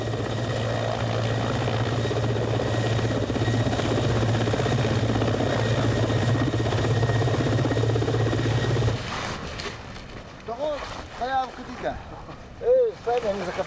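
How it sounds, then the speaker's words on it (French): Helicopters landing on Lyakhovsky island in rain and wind: a loud, dense rotor and engine roar with a steady low drone fills the first nine seconds, then cuts away to voices talking over wind noise. "Malgré la pluie et un vent violent, les hélicoptères atterrissent sur l'île Liakovski."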